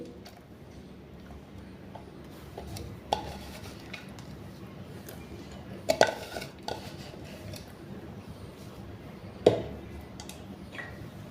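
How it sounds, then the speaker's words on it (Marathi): A spoon stirs and scrapes through tomato omelette batter in a bowl, making soft repetitive swishing with a few sharper clinks against the rim, quiet and close. "आता हे मिक्स करून घेऊयात"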